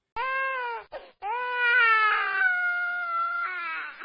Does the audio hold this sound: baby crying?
yes